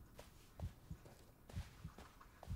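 A heartbeat thuds in the video game Blair Witch, faint paired low beats repeating steadily about every second beneath quiet ambient hiss, with no speech.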